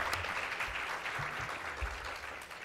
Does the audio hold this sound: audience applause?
yes